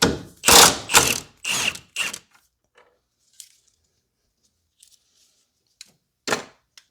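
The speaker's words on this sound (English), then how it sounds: "So we are going to take this bolt off." Ratchet working a bolt loose on a 2016 BMW M235i engine during a spark plug job: several loud, close bursts of rapid clicking at first, then only sparse faint ticks and one last short burst.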